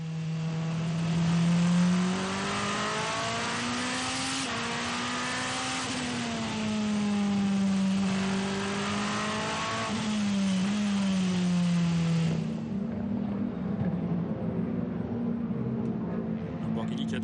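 A Lamborghini race car in WEC qualifying at the Qatar 1812 km revs hard on track, its engine note climbing and falling through several sweeps, loud and close, then settling into a steadier drone.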